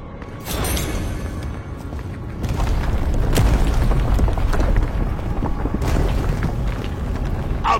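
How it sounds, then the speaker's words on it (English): A large explosion in a video game sets off heavy booming blasts and a sustained deep rumble, with several loud bursts building over several seconds and no voices. "That was a damn big explosion, wasn't it?"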